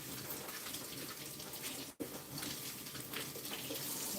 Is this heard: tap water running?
yes